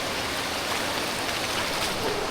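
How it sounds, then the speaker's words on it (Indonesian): A river stream flows steadily along a jungle trekking trail toward the Cisadane waterfall, a continuous close rushing of water with no talk. "ini aliran sungai yang kedua apa ketiga ya?"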